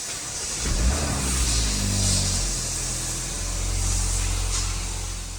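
A restored Porsche engine cranks and catches, then settles into a low, rumbling idle with a rise in revs, close and steady throughout.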